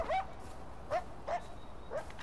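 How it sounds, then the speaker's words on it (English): A dog in the Far Cry 4 video game barks four times in short, evenly spaced yelps at moderate distance over low ambient background noise. "Is that a dog?"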